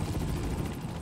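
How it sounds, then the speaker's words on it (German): A helicopter in the video game Manhunt 2 chases the player, its dense low rotor rumble steady and loud throughout, with no talk over it. "Und zwar wieder vom Helikopter."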